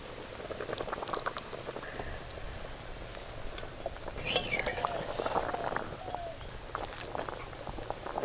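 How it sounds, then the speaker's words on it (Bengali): Katla fish curry boiling in a covered pot, a steady bubbling patter with faint clinks, close and moderately quiet throughout. "মাছগুলো ভালোভাবে সেদ্ধ হওয়ার জন্য চাপা দিয়ে দেব।"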